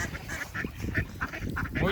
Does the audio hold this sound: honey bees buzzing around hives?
no